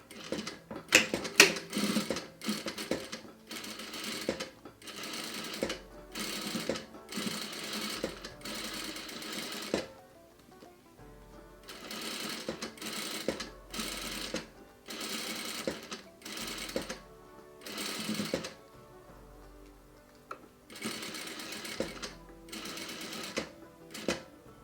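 A sewing machine stitches boning into a corset in repeated runs of rapid mechanical clatter, several bursts separated by short pauses, close and steady.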